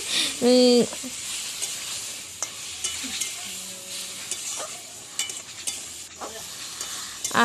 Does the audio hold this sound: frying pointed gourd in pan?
yes